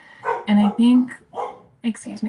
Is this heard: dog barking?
yes